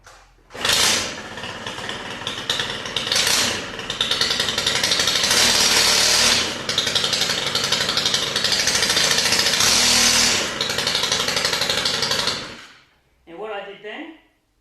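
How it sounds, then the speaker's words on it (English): A Stihl FS131R string trimmer runs close and loud, its engine revving up and down in long sustained bursts as the head spins, then cuts off; a voice speaks briefly at the end. "I can put my finger slightly on the throttle, and as you can see, the head spins, and it spins fast."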